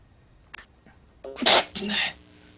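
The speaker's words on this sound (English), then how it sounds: "Yeah, I'm just sneezing." A single sharp sneeze bursts out loudly at close range, preceded by a brief catch of breath, during a livestreamed Elder Scrolls Online gaming session.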